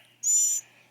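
A short, high-pitched begging chirp from a baby bird, one sharp thin call lasting a split second, close and clear against near silence.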